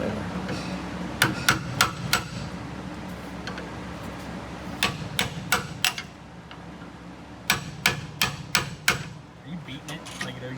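Hammer blows ring out against the rear upper suspension link of a 1966 Ford Country Sedan wagon, coming in quick bursts of three to five sharp metallic strikes separated by pauses, close and loud over a low garage hum with some talk.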